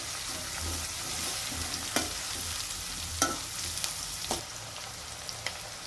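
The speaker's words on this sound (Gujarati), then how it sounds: "અને ડુંગળી અને ટામેટા નાખીશું. આને ચડવા દઈશું." Onions and tomatoes sautéing in a pan for Gujarati vagharelo rotlo, a steady broadband sizzle with a few sharp utensil clicks and stirring scrapes scattered through, close and alone.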